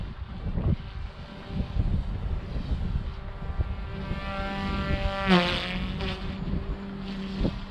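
Goosky S2 Legend RC helicopter in flight, a steady high whine with rising and falling pitch as head speed shifts, fairly loud and continuous with no talking.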